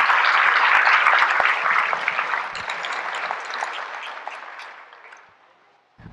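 A crowd in a mosque claps loudly, the applause gradually thinning and fading out over several seconds.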